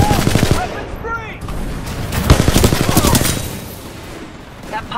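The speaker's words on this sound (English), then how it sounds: "Keep firing!" Rapid automatic gunfire from a Titanfall 2 multiplayer match, with dense bursts of shots and sharp cracks packed together, loud and close, plus in-game voices and radio chatter underneath.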